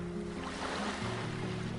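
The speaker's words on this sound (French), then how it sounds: "ces vagues qui viennent s'échouer sur cette plage de sable blanc." Ocean waves wash onto a white sand beach in a steady, soft, broad hiss of surf that fills the whole stretch, with no voices over it.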